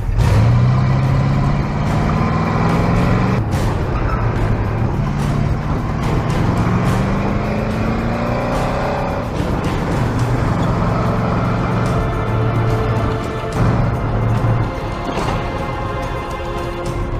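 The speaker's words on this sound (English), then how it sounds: "We figured it just wouldn't make sense if we didn't do the autocross with the trailer attached." A 1985 C4 Corvette-based kart tows a trailer around an autocross course, its engine droning loud and steady throughout, rising and falling in pitch as it accelerates through the run, with a brief dip near the end.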